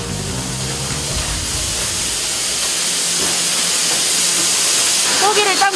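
Steam rushes from a large cooking machine boiling skipjack tuna for canning in a cannery, a loud, continuous close-up hiss with a brief voice at the end.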